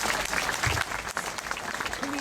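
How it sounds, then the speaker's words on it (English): High school graduation crowd applauds in a large hall, a loud, steady roar of clapping with a voice briefly audible underneath. "Oh, you can clap."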